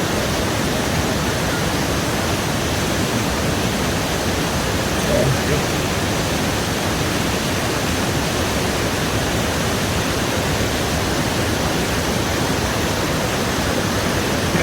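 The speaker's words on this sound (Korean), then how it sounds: "대폭포를 따라서 내려가는 물줄기가 모아지는 곳이라고 생각합니다" A roaring waterfall at Plitvice National Park, swollen by heavy rain, gives a loud, steady, broadband rush of falling water that goes on without a break from start to end.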